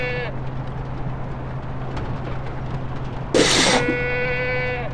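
Sheep bleat in the Far Cry 4 Valley of the Yetis setting, a few short tonal calls near the start and end over a steady low game hum, with a brief loud burst of noise in the middle.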